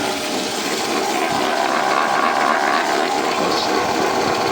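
A granulator driven by an electric motor runs at a steady, loud, broadband drone that holds without a break, with no audible stop in this stretch.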